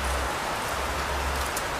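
Heavy typhoon rain falls in a dense, steady hiss of large drops, unbroken and close for a couple of seconds.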